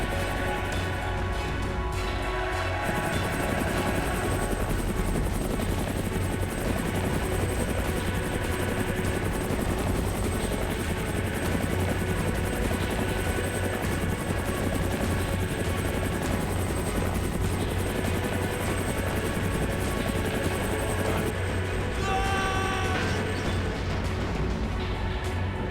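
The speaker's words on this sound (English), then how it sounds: "he's on the helicopter!" A helicopter in a classic action video game thunders steadily and loudly, its dense rotor roar filling the whole stretch without letup and with no talk over it.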